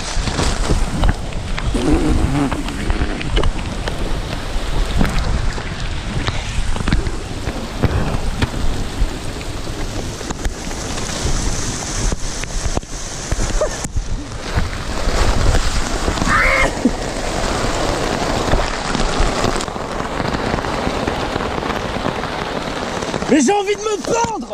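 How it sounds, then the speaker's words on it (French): Heavy rain pours steadily onto a tent at a fishing weekend in Aveyron, a dense, loud roar of drops with occasional thunder and bursts of nearby voices talking over it. "Il pleut dans ma tente."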